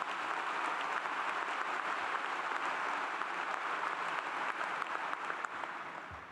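Large graduation crowd in a university ceremony hall gives steady, sustained applause for university leaders, a broad even wash of clapping that holds for several seconds before tapering slightly at the end.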